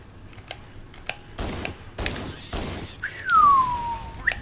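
Gunfire in the video game Halo CE Anniversary during a co-op mission: several sharp, separate shots spaced about half a second apart, followed by a whistling projectile sweep, with faint game ambience.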